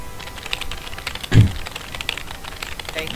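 Sparse, faint clicks of typing on a computer keyboard, with a single soft low thump midway, close by and alone with no talk.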